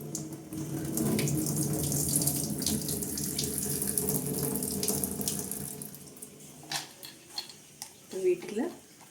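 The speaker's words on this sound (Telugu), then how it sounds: "మీల్ మేకర్ని ముందు శుభ్రంగా మనం వాష్ చేసుకుందాము" Soya chunks rinsed by hand under a running kitchen tap: a steady, close rush of water for about seven seconds, then the flow stops and a few wet handling sounds and knocks follow.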